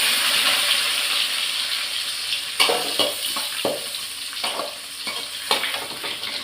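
Onions and curry leaves frying in hot oil with popped mustard seeds and a little fenugreek, a steady close sizzle broken by several sharp crackles and stirring scrapes, with no talk.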